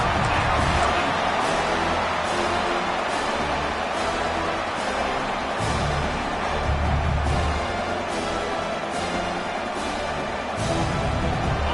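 A large stadium crowd at an American football game roars and cheers steadily on third down, a dense wash of noise with rhythmic surges, like fans chanting or clapping in unison.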